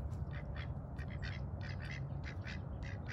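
Bufflehead diving ducks on a pond giving rough squawking calls in quick repeated bursts throughout, set against a steady low outdoor rumble.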